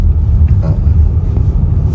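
Steady low car-engine rumble in rush-hour traffic in the Philippines, a continuous close droning hum with no break and no talking.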